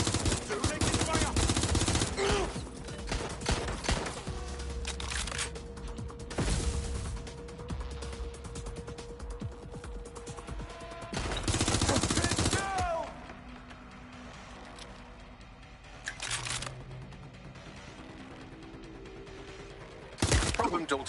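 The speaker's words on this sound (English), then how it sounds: "Taking fire!" Bursts of automatic gunfire and rapid shots in the Watch Dogs Legion game, loud and dense at the start with further volleys later, among game effects and intermittent voices.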